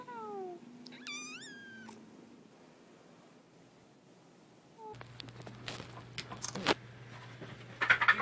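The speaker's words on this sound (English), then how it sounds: "Say meow." A cat meows in a few rising, drawn-out calls near the start, fairly close and alone against a quiet background, followed by noisier rustling and handling sounds.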